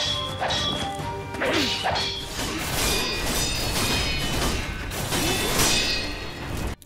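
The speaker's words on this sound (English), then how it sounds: "From the blood sprays, to the metal sparks and sound" Sword combat in the video game Sekiro, with loud, dense metallic clashes, impacts and swishes layered over game music, close and continuous without a break.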